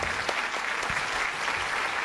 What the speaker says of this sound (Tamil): எல்லாரும் கைத்தட்டலாம்